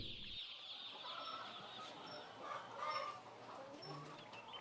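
Chickens cluck softly and intermittently over a faint outdoor background, a few hens calling at a distance with no one talking.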